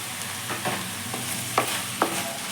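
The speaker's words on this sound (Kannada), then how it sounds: "ಫ್ರೈ ಮಾಡ್ಕೋಬೇಕು." Chopped tomato frying in a pan for Karnataka-style chicken dry, a soft steady sizzle broken by a few sharp scraping spatula strokes, close and fairly quiet.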